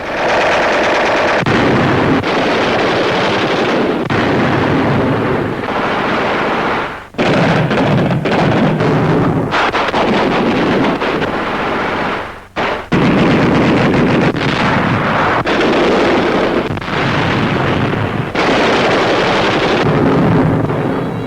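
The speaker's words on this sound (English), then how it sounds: "With field mortars and Tommy guns, they blast away at the slightest sound." Field mortars and Tommy guns firing in jungle warfare in New Guinea, 1942: dense, continuous rattling bursts and heavy blasts, loud and close, with only two brief gaps in the barrage.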